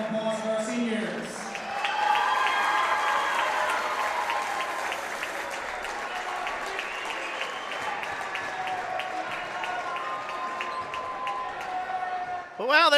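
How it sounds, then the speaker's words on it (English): A gym crowd at a high school JV boys basketball senior night applauds steadily for over ten seconds, with cheering voices mixed into the dense clapping and a louder burst at the very end. "one last round of applause for our seniors."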